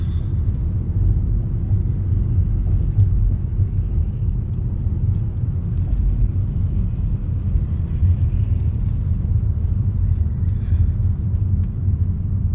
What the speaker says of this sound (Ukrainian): Бачите, машини їдуть прямо в три ряда.